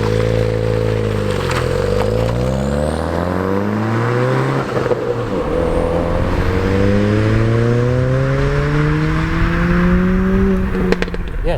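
A tuned 330bhp Revo Ford Fiesta ST accelerates hard on the road, its engine note climbing loudly through the gears with two clear upshift dips, heard close from inside the car.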